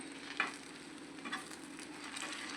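Kothu parotta cooks on a hot pan with two eggs poured in and stirred, giving a faint, steady sizzle with a couple of soft scraping clicks near the start and middle.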